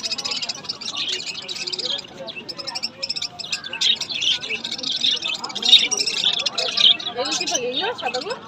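Pigeons and other birds call at a busy bird market in Beldanga, Murshidabad, with a dense, shifting mix of chirps and tweets close by and people's chatter mixed underneath.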